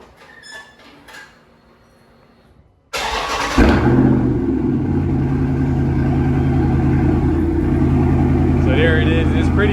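A straight-piped Dodge Charger Scat Pack widebody fires up inside a garage, a sudden loud crank and catch that settles into a deep, rumbling idle that swells briefly before holding steady and very loud.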